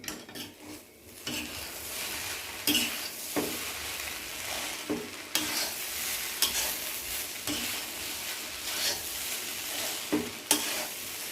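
Poha (flattened rice) with potato tempering stirred in a pan, giving a continuous close sizzle with repeated spoon scrapes and knocks against the pan at an uneven pace, with no talking.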